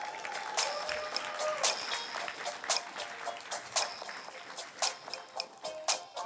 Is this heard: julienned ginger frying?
no